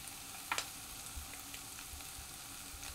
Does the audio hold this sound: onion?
yes